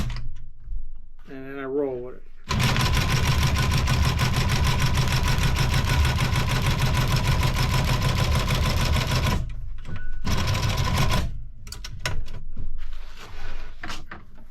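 Sewing machine stitching a custom motorcycle seat, a long, loud, rapid mechanical chatter running for several seconds, with short bursts afterward and brief handling noises around it.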